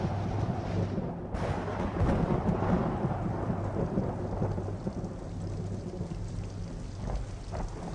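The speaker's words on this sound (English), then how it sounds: "As he sat, the rain fell constantly." Heavy rain pours steadily on a surface, with loud rumbling thunder rolling through and a sharp crack near the start, no voices, lasting throughout.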